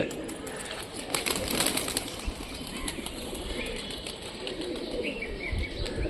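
A feather-footed Mushki pigeon with green and black markings flaps its wings amid steady handling noise and a busy background of bird sounds, with some soft coos mixed in.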